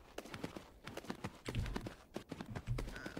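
Hooves clip-clop from a horse ridden in a horse-riding video game, a quick, uneven series of close, muffled thuds and knocks at a trotting pace, moderately quiet throughout.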